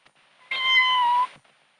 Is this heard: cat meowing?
yes